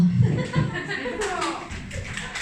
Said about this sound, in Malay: bagi tepukan juga bagi kumpulan yang kedua